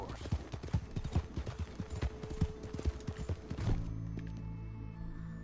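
Steady clip-clop of horse hooves at a trot in Red Dead Redemption 2 for several seconds, crisp and close, then the hoofbeats stop and a low hum remains.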